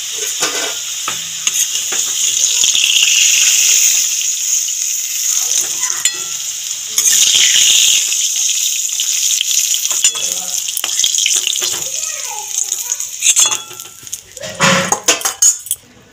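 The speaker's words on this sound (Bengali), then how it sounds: "নেড়ে ঝেড়ে ফোড়নটা ভেজে নিলাম" Nigella seeds splutter and crackle in hot oil as a spice tempering, with a steady sizzle through most of the stretch. A spoon stirs and clinks against the pan, and the handling grows busier toward the end.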